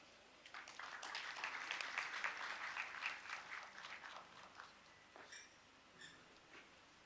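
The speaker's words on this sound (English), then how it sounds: "please can we give the Permanent Secretary a better applause?" An audience at a health sector town hall meeting applauds, a burst of clapping that swells over the first few seconds and then thins out into scattered claps, heard faintly from a distance.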